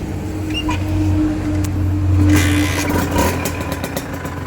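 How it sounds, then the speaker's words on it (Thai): A Honda NSR motorcycle engine runs close by, idling steadily before a short throttle blip swells midway and settles back to a rough idle. "เดี๋ยวผมเร่งนิดนึง"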